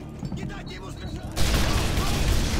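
In a Call of Duty: Modern Warfare 3 firefight, voices talk over quieter game sounds, then a flashbang grenade goes off and a sudden loud, sustained burst of gunfire and noise fills the rest.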